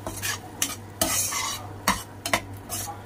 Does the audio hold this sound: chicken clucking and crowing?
no